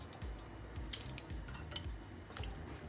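Stirring bouillon and flour into water for gravy, a utensil clinking and scraping against a pot or bowl in irregular light taps over a low background hum.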